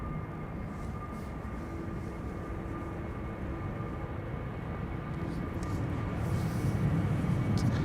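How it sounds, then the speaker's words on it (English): KLM Embraer 190 jet lined up on the runway at Amsterdam Schiphol, a steady distant engine rumble with a faint whine that swells slightly toward the end. "KLM Embraer 190 lined up here."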